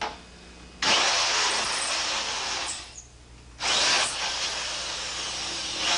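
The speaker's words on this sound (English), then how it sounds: "picking a spot back in the safe where I know there's no hardened anti-drill plate and drilling through to the interior" A power drill bores at low speed through a one-hour fire-resistant safe, with cutting oil applied, a loud steady grinding whine that drops away briefly mid-way and then resumes at full strength.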